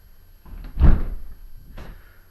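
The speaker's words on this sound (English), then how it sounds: "what I should do is shut that door" A door in an off-grid tiny house being shut, one close thump with a soft rattle, followed by a fainter knock.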